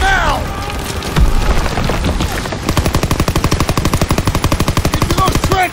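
Rapid machine-gun fire rattles in a steady stream during a Call of Duty WW2 assault on the Ludendorff Bridge at the Rhine crossing, loud and close, after a voice shouts orders and booms sound early on.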